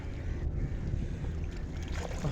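A boat moves past at Port Klang, a low rumbling engine and water wash mixed with wind noise, steady and moderately faint throughout.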